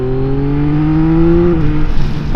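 A 2024 Yamaha XSR900 motorcycle engine pulls hard in third gear, its steady harmonic drone climbing in pitch as the throttle opens, loud and close against wind rush, then easing off near the end.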